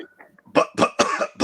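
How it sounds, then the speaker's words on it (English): A man coughs several times in quick succession, close and fairly loud, with a few small throat noises before the harsher bursts. "I was just coughing a little bit there."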